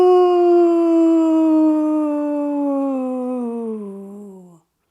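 A human voice imitates a ghost with a long, sustained hooting 'ooh' during breathwork, a single steady tone held about four seconds that slowly sinks in pitch before cutting off, close and clear.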